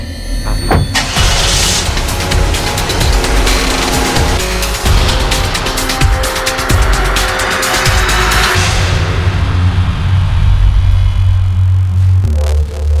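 A car engine revving and pulling away, loud and close, with a burst of acceleration and tire noise before settling into a lower steady engine hum as it drives off.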